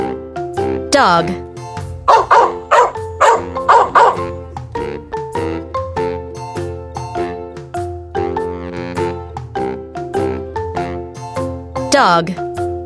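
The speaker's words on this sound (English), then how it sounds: "Dog." Bright, short dog barks, one near the start and one near the end, ring out over a steady cheerful children's music backing, with a sung or spoken voice between them.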